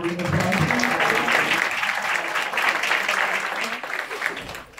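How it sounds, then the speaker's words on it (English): An audience at a women's honors event in Newark applauds in a dense, loud burst of clapping that holds steady, then thins and fades toward the end, with a few voices mixed in. "Can we give her one more round of applause?"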